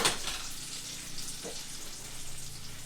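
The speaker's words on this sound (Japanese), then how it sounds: "さすがにこんな油の多いサラミでしっかり炒めないと本当に食べづらい。" Oily salami frying in a pan for carbonara, giving a steady, close sizzling hiss throughout with no talk.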